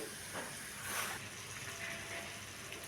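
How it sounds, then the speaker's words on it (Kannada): Coconut masala frying in oil for North Karnataka stuffed brinjal gives off a faint, steady hiss and sizzle with soft, brief swells and no talk. "ಅದನ್ನು ಎಣ್ಣೆಯೊಳಗೆ ಚೆನ್ನಾಗಿ ಫ್ರೈ ಮಾಡ್ಕೋಬೇಕು ರೀ"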